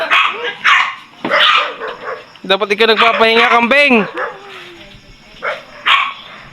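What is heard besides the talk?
dog barking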